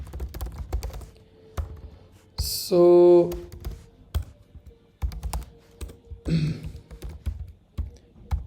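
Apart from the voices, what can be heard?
typing on a computer keyboard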